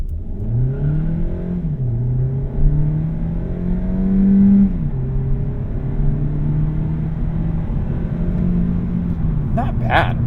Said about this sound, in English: let's go ahead and put this in sport mode and do a quick 0 to 60